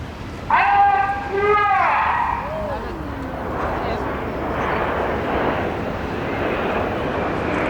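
Red Arrows display jets pass overhead at an air show in Bournemouth, a loud roaring rumble with a falling pitch sweep as they fly by, then a sustained distant engine wash; a commentator speaks over the start.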